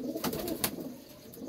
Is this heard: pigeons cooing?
yes